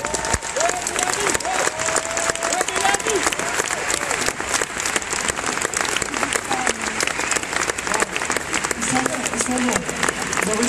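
Sustained applause from an audience at a conference event, dense and even, with many hands clapping at once for the full length and no talk over it.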